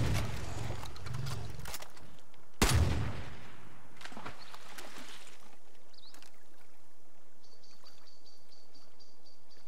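Gunfire in the Far Cry New Dawn video game: two loud sharp reports a few seconds apart, each trailing into a rumbling decay, with rushing ambience and a faint electronic beeping near the end.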